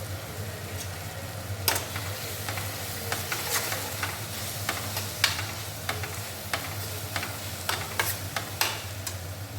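Steady sizzling of ground garam masala sautéing in a pan for egg masala, with scattered clicks and scrapes of stirring over a constant low hum.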